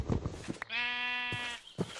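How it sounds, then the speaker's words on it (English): A sheep bleats in the modded Minecraft world of RLCraft, one sustained, wavering, nasal call lasting under a second, loud and close, framed by brief game noises and footsteps before and after. "We're just gonna take this sheep inside."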